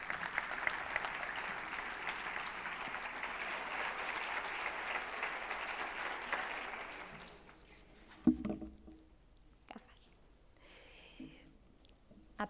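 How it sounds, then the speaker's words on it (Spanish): An audience applauds to welcome RECE secretary general Marina Canals Ramoneda to the stage, a dense steady clapping that fills the first seven seconds, then fades into scattered claps and footsteps. "la recibimos con un aplauso"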